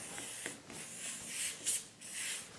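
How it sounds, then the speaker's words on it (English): Short bursts of hissing spray onto baking moulds for brioche, a few quick puffs in close succession, with faint rubbing noises between them and no talking. "spray our moulds."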